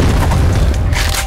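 A grenade blast in the online shooter CrossFire: a loud, dense boom with heavy low rumble filling the whole moment, rough and sustained rather than a single clean crack.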